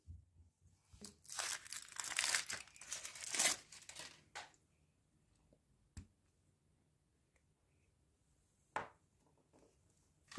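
A big toy surprise egg being unwrapped, with close crinkling and tearing of foil or plastic wrap in bursts over the first few seconds, then a few isolated clicks and rustles amid near silence.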